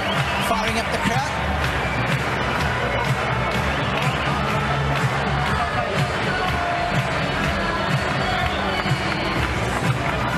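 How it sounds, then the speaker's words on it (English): A packed tennis stadium crowd at a match between Novak Djokovic and Kei Nishikori in Rome cheers and claps over booming DJ music, a loud, continuous mix of roaring voices and thumping beats. "DJ's firing up the crowd."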